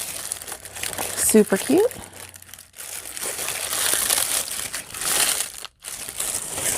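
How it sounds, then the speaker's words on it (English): Tissue paper from a yarn kit subscription box crinkles and rustles in a few close bursts, with a person talking over it. "looks like they've got some cute yarny tissue paper"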